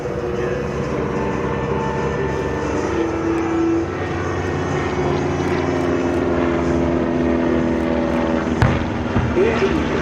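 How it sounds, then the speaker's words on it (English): A 230 hp Albatros engine drives an Airco DH9 biplane at a WWI airshow, giving a steady, loud propeller drone that holds throughout. A voice carries over the engine noise. "The engine you can hear there powering the DH9 is a 230 horsepower Albatros"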